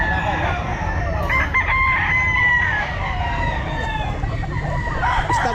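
A young rooster crows at an outdoor pet market, loud and near, its strained cock-a-doodle-doo repeating over clucking fowl and the busy background of the market.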